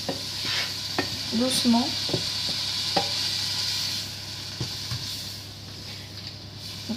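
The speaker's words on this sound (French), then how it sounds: "les poireaux, on va les laisser mijoter tranquillement" Leeks simmering and sizzling gently in a pan for a leek, tomato and lardon quiche, a soft steady hiss with occasional stirring taps and utensil clicks, and a brief spoken word over it.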